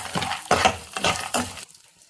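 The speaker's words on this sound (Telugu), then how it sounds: "1 కప్పు పల్లీలు, శనగిత్తులండి, అవి కూడా లైట్గా వేయించుకోవాలి." Peanuts and chana dal lightly frying in a pan for coconut chutney, heard as a series of bursts of rattling, scraping stirs with a soft sizzle underneath that drop away to near quiet at the end.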